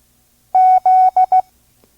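Morse code letter Z sent at 5 words per minute: two long tones then two short ones, a clean loud steady beep pattern with silence before and after.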